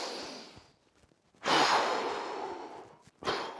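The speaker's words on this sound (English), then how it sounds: "3 big breaths I want." Big deep breaths pushed out hard during a Tabata-style gorilla workout class, two long loud exhales close to the mic separated by a quiet pause, the second cut short, no talking.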